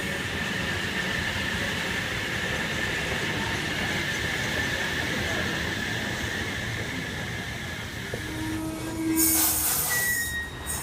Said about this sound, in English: Hamilton service arriving into platform 2.